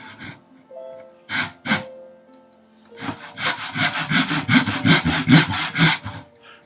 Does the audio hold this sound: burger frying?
no